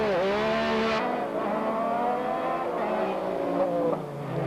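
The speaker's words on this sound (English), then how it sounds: "Rob quickly away from Rolf Mang with the Audi 90 Quattro, and Walter Schmidt there with a 4x4 Porsche 911" Rallycross cars including an Audi 90 Quattro and a 4x4 Porsche 911 pulling away from the grid at the 1991 European Rallycross in Switzerland: loud, close engine roar climbing and shifting pitch, with a commentator talking over it.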